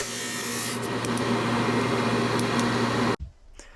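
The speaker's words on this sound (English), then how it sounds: "Running the rings through the drum sander" Walnut and purpleheart segmented wooden rings fed through a drum sander, giving a loud, steady abrasive roar with a constant hum that stops abruptly near the end, leaving a faint clunk.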